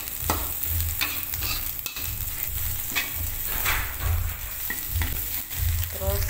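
Javanese fried noodles tossed with their seasoning in a pan, a steady sizzle broken by repeated scraping and clattering strokes of a spatula, close and continuous with no talk.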